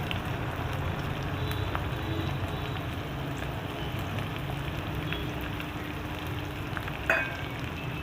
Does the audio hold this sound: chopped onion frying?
yes